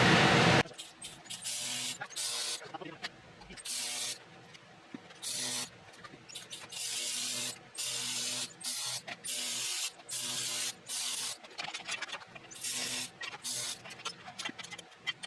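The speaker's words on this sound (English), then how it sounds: "So I'm just going to tack it on this side, both ends, tack it on that side, both ends, and then I'll go and just rip it." Tack welding a steel box built to keep electronics out of the weather: about a dozen short, loud bursts of crackling, hissing arc noise, each lasting roughly half a second to a second, separated by brief pauses.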